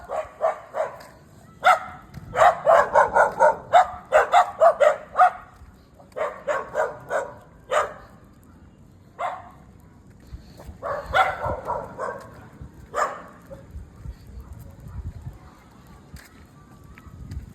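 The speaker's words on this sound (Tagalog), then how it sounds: "May aso pa" A dog barks repeatedly in bursts of short, sharp woofs at moderate distance, with brief pauses and a few softer yips toward the end.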